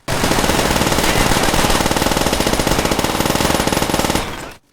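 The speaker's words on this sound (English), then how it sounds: "the Papasha 41, where the gun fires so quickly," A PPSh-41 submachine gun in Call of Duty: World at War fires one long, extremely rapid continuous burst, loud and dense with rounds merging together, cutting off after about four seconds.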